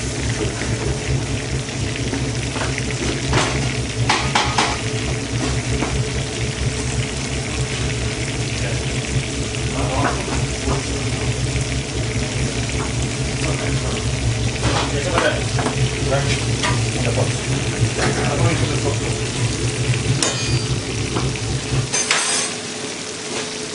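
Mushrooms, onions and leek fry for a fish stock, a steady rain-like sizzle with stirring and utensil scrapes throughout, close up, before it cuts off near the end.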